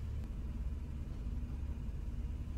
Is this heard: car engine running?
yes